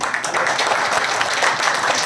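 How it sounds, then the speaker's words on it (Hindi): Audience at a Hindi poetry gathering, a kavi sammelan, clapping in a dense, steady burst of many hands that stays loud through the short clip. "और एक बार जोरदार तालियां बजा दीजिए"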